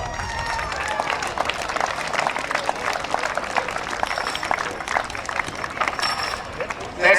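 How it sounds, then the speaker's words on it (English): A crowd at a rugby league grand final applauds the Aberdeen Tigers, with steady clapping and scattered cheers mixed with voices in the crowd. "Round of applause for Aberdeen Tigers."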